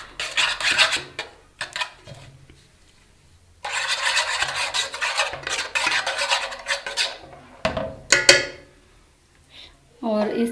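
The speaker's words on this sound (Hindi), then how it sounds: "नमक हस्बे ज़रूरत ये इसमें शामिल कर दिया। अच्छे से मिक्स कर लिया इसको।" Red chili powder, spices and salt for a chicken marinade are stirred and scraped in a bowl, in irregular bursts of gritty rubbing and clinking separated by brief quiet gaps.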